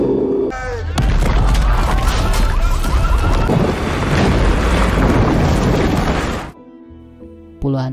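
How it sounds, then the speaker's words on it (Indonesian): A massive mountain blast from excavation work roars as a sustained, dense rumbling crash for several seconds, loud and chaotic, then cuts off abruptly into a quieter background with a faint tonal hum. "para pekerja sepakat untuk meledakkan gunung tersebut, dan setelah ledakan itu"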